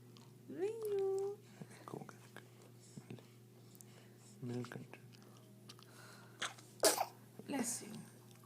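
A baby lets out a sharp sneeze amid small breathy sounds and faint whispery vocal noises, with a quiet room hum underneath.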